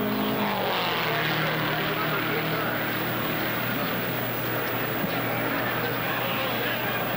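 Bobby Marshman's car roars through a qualifying lap at the 1964 Indianapolis 500, a loud, steady, unbroken engine drone that fills the whole stretch, with crowd and commentary mixed underneath.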